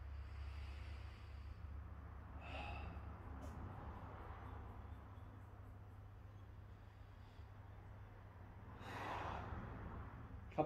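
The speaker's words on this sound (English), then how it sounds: "and then I'm just gonna start breathing again." Slow, deep breaths taken while holding a frog stretch, two or three soft, airy inhales and exhales spread apart over a steady low hum.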